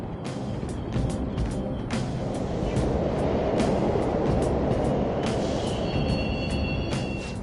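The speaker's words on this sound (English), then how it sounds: "The trains are totally running." Subway trains rumble steadily through an underground station in the video game Persona 5 Royal, a loud continuous low roar with repeated sharp clicks and brief whistling tones near the end.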